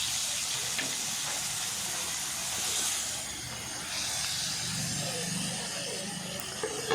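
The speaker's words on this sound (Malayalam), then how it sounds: "വീണ്ടും അടുത്ത ട്രിപ്പ് കൂടെ നമുക്ക് ഇട്ട് കൊടുത്ത് വറുത്തെടുക്കാം" Karimeen, pearl spot fish, frying in hot oil, giving a soft continuous sizzle and hiss that swells and fades slightly, faint and close, with no talking.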